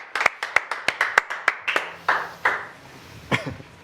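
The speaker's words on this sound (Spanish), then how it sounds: "Un aplauso para ellos" A small group claps in even, steady beats that slow and fade after a few seconds.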